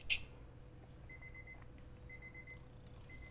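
Alarm clock in an MDickie video game goes off as faint repeated bursts of rapid high beeping, each lasting about half a second, over a low background hum.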